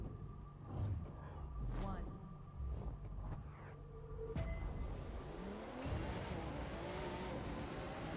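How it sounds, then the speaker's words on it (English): A car engine revving in The Crew 2, with a steady motor drone that rises in pitch with acceleration and gear changes, racing under speech. "Listen to the engine."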